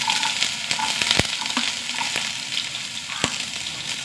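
Mustard seeds and onion sizzle in hot oil, a bright continuous crackle close by, broken by a few sharp pops and clacks from stirring.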